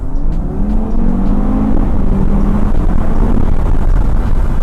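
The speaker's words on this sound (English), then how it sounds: "there's a little bit of lag in the turbo, but when it kicks in, oh, you feel it" A 2021 Audi TT RS accelerating hard under full throttle, its turbocharged engine roaring loudly and steadily with a rising drone as it pulls through the gears, heard alone from close by.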